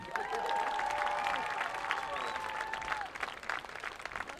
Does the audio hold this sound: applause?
yes